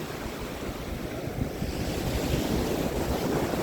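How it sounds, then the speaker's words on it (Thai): Surf rolling in with steady wind on Laem Sing beach in Chanthaburi, Thailand, a continuous rushing wash with rumbling low swells and wind buffeting the microphone, building slightly louder toward the end. "ดูบรรยากาศครับ นี่ก็คือหาดแหลมสิงครับพี่น้อง"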